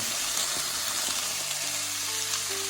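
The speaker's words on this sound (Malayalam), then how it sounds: "നല്ലതുപോലെ നാല് സൈഡ് നല്ലതുപോലെ ഇളക്കി കൊടുക്കുക" Soya chunks sizzle steadily in a hot frying pan while being stirred, a continuous bright hiss with faint scraping underneath.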